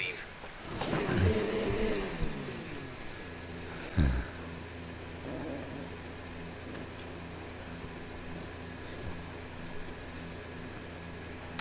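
F1 2019 racing game car pulling out of the pit lane at the Spanish circuit, a steady engine drone with a revving burst early and a thump near four seconds, moderately loud throughout.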